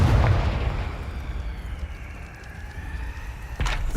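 A Confringo spell explosion from the video game Hogwarts Legacy booms loudly at the start, then a low rumbling decay lingers, with a second burst near the end.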